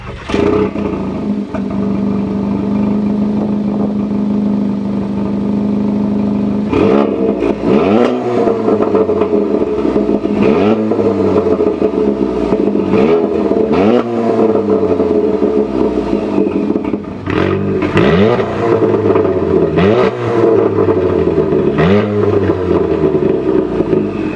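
Volkswagen Mk7 GTI fitted with an IS38 turbo, idling steadily before a series of loud, repeated throttle blips that rise and fall sharply, close up with no talk.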